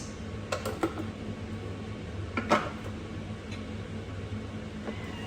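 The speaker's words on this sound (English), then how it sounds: "Then we put the measuring cup back into the lid." Thermomix measuring cup dropped back into the lid of the mixer while a coconut chicken curry cooks, giving a few sharp plastic clicks and taps over a low steady hum, then quiet.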